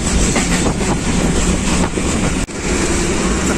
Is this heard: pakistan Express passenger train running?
yes